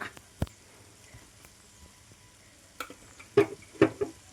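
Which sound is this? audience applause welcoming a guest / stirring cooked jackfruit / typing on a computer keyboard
stirring cooked jackfruit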